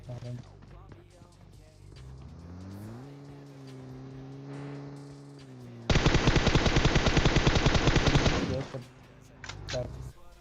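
In PUBG Mobile, a loud sustained burst of automatic gunfire rattles for about three seconds, following quieter engine-like droning and scattered game sounds, with a few single shots afterward.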